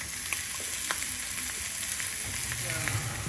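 Scallops sear in an overheated, smoking pan with the range hood fan running, making a continuous close crackling sizzle dotted with small pops.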